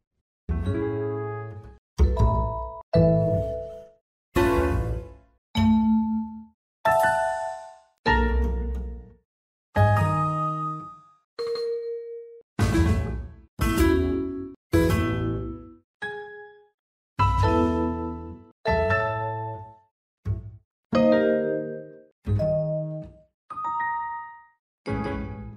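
A sequence of short Windows 7 Cityscape scheme electronic chimes and tonal jingles, each followed by a gap of silence, varied in pitch, clean and close.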